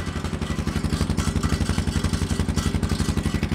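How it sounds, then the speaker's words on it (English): A Yamaha Big Bear ATV engine idles with a fast, even chug, its exhaust giving off a loose metallic rattle from inside, close and steady throughout. "We got some rattles in our exhaust."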